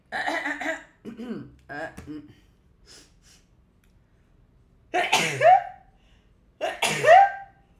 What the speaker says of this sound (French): Ah mince, je vais déjà éternuer.